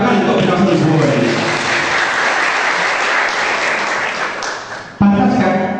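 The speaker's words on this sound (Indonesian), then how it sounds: "Tepuk tangan untuk kita semua ini" Audience applause after a ronggeng dance competition performance, loud and sustained for about five seconds, then cut off by a sudden, different burst.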